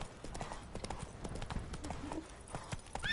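The horse Roach galloping in The Witcher 3, rapid rhythmic hoofbeats pounding close and steady, with game sounds and brief voices mixed in.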